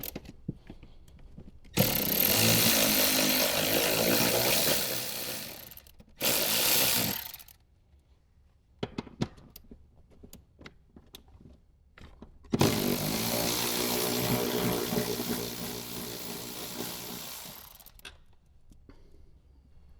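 Two 14mm seat bracket bolts being loosened and removed on a Toyota 4Runner with a power tool, in long loud bursts of whirring and ratcheting separated by short quiet gaps.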